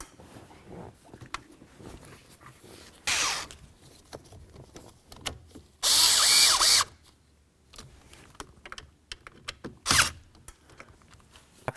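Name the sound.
screws being driven in and snugged up on Ford F-250 combination switch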